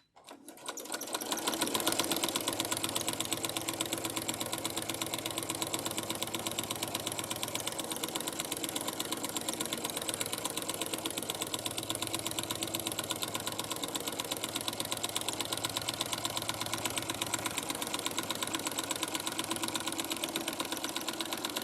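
A Baby Lock sewing machine running a straight stitch through a quilt sandwich, a continuous fast mechanical whir and clatter held close and steady throughout, no speech.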